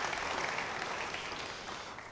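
Congregation applauding in a church, a dense continuous clatter of many hands clapping that tapers slightly near the end.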